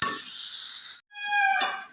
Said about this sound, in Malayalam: അരിഞ്ഞു വെച്ചിരിക്കുന്ന നാരങ്ങ ഇട്ട് കൊടുക്കുക. ഇളക്കി കൊടുക്കാം